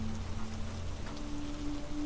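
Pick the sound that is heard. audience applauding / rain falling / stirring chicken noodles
rain falling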